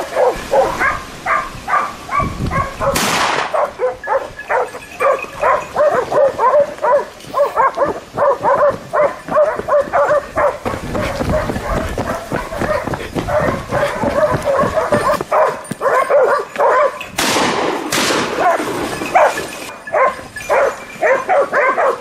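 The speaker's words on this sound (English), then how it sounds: "the hunting dogs carve a path through the forest maze, driving the prey out of its hiding place" Hunting dogs bark and yelp nonstop while driving wild boar through a forest, a dense, loud chorus of overlapping barks with a few higher yips that carries on without a break.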